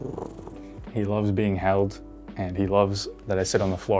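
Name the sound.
cat purring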